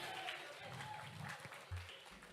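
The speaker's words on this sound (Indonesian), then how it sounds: "Boleh dong tepuk tangannya untuk Bapak Edi." An audience at a keroncong orchestra performance claps in a quiet, distant patter that carries briefly under a room hum and faint voices.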